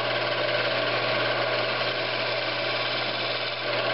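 A saw cutting a small groove in a piece of wood, with a steady, dense, droning rasp that continues unbroken and close up.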